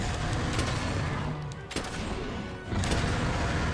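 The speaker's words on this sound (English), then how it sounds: "He's giving me a lot of time to shoot him." Heavy bowgun fire in Monster Hunter World on PC, a dense rapid volley of loud gunshots that briefly drops off midway and then resumes at full strength.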